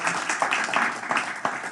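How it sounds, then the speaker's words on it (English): Scattered audience applause at a health and wellness conference, a dense wash of many hands clapping at moderate volume for under two seconds with no voices over it. "So hand of applause for Melinda."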